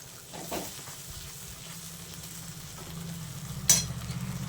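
Chicken stir-fried in a pan gives a soft, low sizzle with scattered stirring clatter and a sharp utensil knock near the end, close by and fairly quiet, with no voices.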